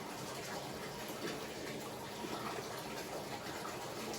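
Tide powder laundry detergent pours into its measuring cup as a steady, close, grainy hiss lasting a few seconds without a break.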